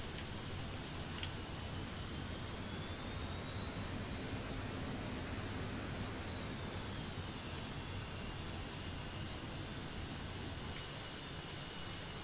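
A steady, loud jet engine roar from a plane in the flight simulator DCS, with a high whine that dips in pitch partway through, continuous with no talking.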